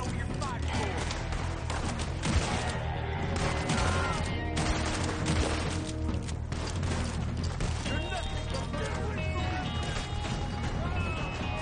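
A Gatling gun fires in a video game, a dense, continuous rattling barrage with scattered impacts and booms. A voice talks over it throughout.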